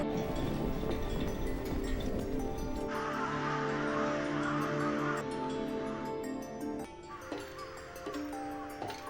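Several crows caw repeatedly at some distance over a busy background, their harsh calls coming in loose, overlapping bursts.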